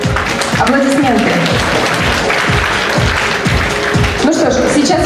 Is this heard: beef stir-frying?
no